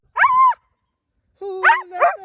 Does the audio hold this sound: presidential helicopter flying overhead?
no